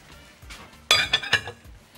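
Boiled meat dropped into a pot of frying onions, heard as a sudden clattering impact with metallic clinks against the pot, then a few more scraping knocks that fade over a quiet background.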